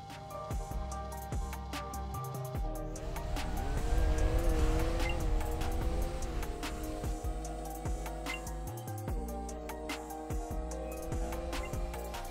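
Car driving in the video game Drive World, engine note climbing and shifting with tire squeal through a turn, a continuous game-audio mix with revving rising mid-clip and settling again.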